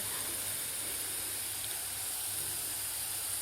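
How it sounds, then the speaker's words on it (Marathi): Cumin seeds sizzle in hot oil beside golden fried potato for sabudana khichdi, a steady, even hiss that runs without pause and with no voices over it. "आता यामध्येच आपल्याला थोडेसे जिरे घालायचे आहेत"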